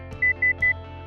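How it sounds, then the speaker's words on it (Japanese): A Panasonic residential fire alarm sounds its fault warning: three short, evenly spaced electronic beeps over a steady low hum, clear and close. "検知部が故障すると自動的にメッセージと点滅でお知らせします。"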